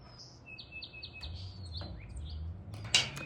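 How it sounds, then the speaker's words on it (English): Birds chirp and tweet in a repeated series of short, clear notes over a low background rumble, with a sharper, louder call near the end. "please concentrate on the bird song rather than the drill"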